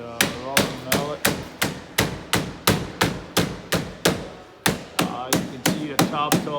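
A rubber mallet taps aluminum trim back into place during a seal kit replacement on a TrailManor camper, striking in a steady run of about twenty sharp, close knocks, with a brief pause before the taps resume.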